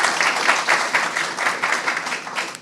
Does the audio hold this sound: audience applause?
yes